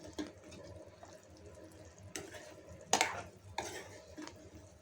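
Ginger garlic paste stirred and fried over high flame in a pan for green chicken hariyali, soft sizzling under a few brisk scraping stirs of the spatula, close up and without talk.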